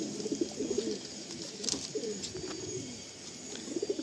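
A female Madrasi pigeon coos softly and repeatedly at close range, low rolling calls in short bursts over faint background noise.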